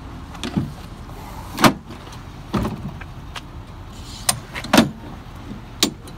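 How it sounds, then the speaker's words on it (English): A 2019 Ford F-350 regular cab pickup tailgate is lowered, giving a series of sharp metallic clunks and latch clicks spread unevenly over several seconds, close by with no talking. "Bring that tailgate down."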